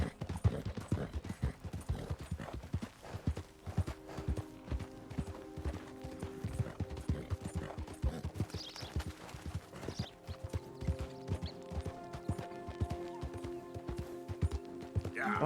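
A horse gallops in the Red Dead Redemption 2 video game, with fast, steady hoofbeats drumming throughout and a droning musical score underneath, moderately quiet, and someone talks intermittently over it.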